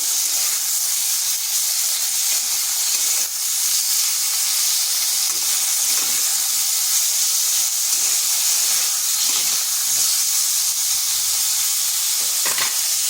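Star fruit chutney cooking on low heat, a continuous close hiss and sizzle with faint stirring, no voices.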